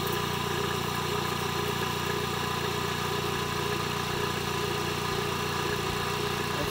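Fertilizer pump engine on a farm running steadily at a constant drone, loud and close, with no change in pitch and no voices.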